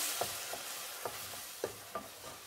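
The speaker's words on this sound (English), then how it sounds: "Now add tomato puree and saute it" Tomato puree sautéing in a pan, a soft continuous sizzle under a slow series of about seven gentle spatula taps and stirs, close but fairly faint, no speech.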